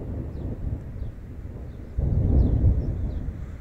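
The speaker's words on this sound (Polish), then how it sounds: "I jeszcze grzmi na dodatek." Thunder rumbles at a fishing spot under dark clouds, a low rolling boom that swells loudly midway and lingers, with faint distant bird chirps above.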